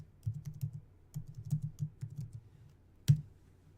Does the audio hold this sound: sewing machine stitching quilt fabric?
no